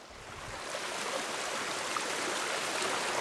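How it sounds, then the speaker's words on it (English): A woodland stream rushes steadily, a constant broad hiss of flowing water heard close and fairly loud. A low rumble at the start gives way to the even wash of the current, with no voices. "I want to let them hear the sound of that water for a second."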